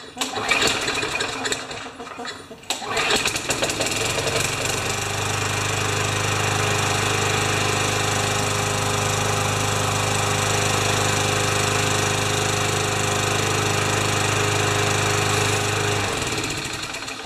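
A Craftsman 6.25 lawn mower engine, an oil-leaking unit, cranks with a rough rattle then catches and runs steadily with a droning hum, loud and close for a long stretch before cutting off near the end.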